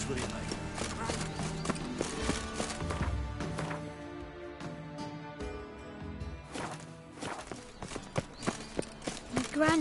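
Horse hooves clip-clop in uneven beats in The Witcher 3, mixed with game music and other sounds, and voices talk over much of it.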